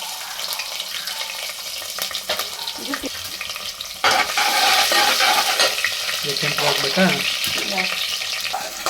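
Green chillies fry in oil and ghee with spices such as fenugreek and fennel, making a continuous sizzle with stirring scrapes. Midway the frying jumps noticeably louder and stays bright and close.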